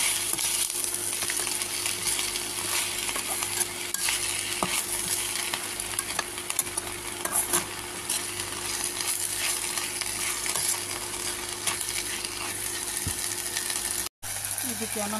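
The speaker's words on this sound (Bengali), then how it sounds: "এখানে একটু নেড়ে চেড়ে দিব।" Food fries steadily in a pan while being stirred, a continuous close sizzle with scraping and clinking of the utensil throughout, briefly cutting out near the end.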